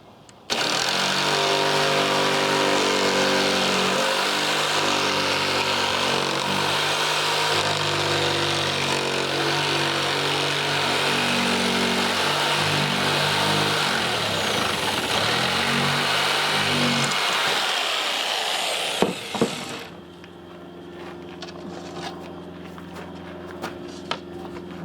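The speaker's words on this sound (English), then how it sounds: "Again, using the metal blade so that I don't make too many big splinters on the wood." A power saw with a metal blade cuts wood inside a camper van, a loud close motor whine with shifting pitch as the blade bites, running for about twenty seconds before spinning down to quieter handling noises.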